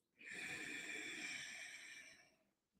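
A single long breath drawn in through the nose during a calming acupoint and peppermint aromatherapy exercise, steady and close, with a soft rise, a sustained airy middle lasting about two seconds, and a gentle fade.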